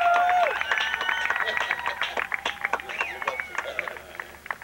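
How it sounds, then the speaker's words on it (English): Audience applause for Jack Hare, hemp activist, swelling as a dense wash of clapping under a voice, then thinning into scattered individual claps. "Let's hear it for Jack Hare"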